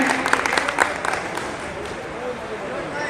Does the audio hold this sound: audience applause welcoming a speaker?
yes